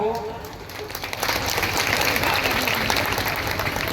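Crowd applause at the opening of a state-run folk fair honouring a local deity, welcoming the chief minister and education minister; dense, steady clapping that swells after the first second and stays loud and even throughout.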